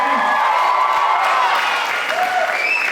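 A high school hypnosis show crowd at a winter ball keeps up loud applause mixed with cheers and whoops, sustained and full throughout.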